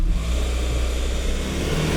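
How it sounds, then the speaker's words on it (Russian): Kia K5 sedan making a launch start in sport mode with stability control off, the engine droning steadily and loudly from inside the cabin, with no talk. "У нас отключены все стабилизации, спорт-режим, и пробуем ланчевать."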